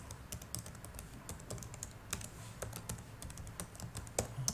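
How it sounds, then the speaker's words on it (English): Fingers type steadily on a computer keyboard, a quiet, close stream of irregular clicking keystrokes with occasional heavier taps and no voices. "I'm just typing it out here."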